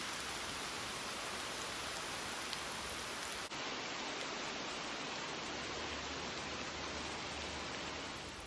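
Rain falls steadily on a holly bush and patters in a soft, even hiss that stays constant throughout, heard from underneath the bush with no voices.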